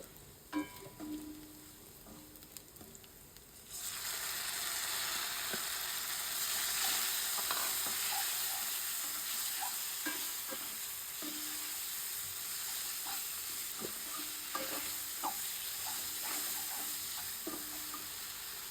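Taro green stems sizzle in a hot pan with garlic, onion and nigella seeds. A quiet start gives way to a loud, steady frying hiss, broken by the scrape and clack of stirring throughout.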